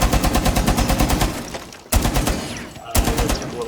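A DP27 machine gun in Rainbow Six Siege fired at a floor hatch, loud rapid bursts of steady automatic fire broken by two short pauses, each burst starting sharply and running close and continuous.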